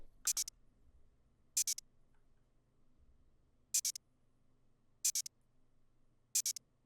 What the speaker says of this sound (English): Then, guys, we're going to add an open hat that sounds like this.